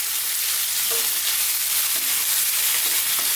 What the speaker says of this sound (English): as you can hear, highish heat, we're going to just fry this round